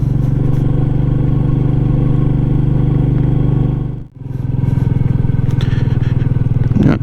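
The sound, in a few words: Royal Enfield motorcycle riding on a bumpy road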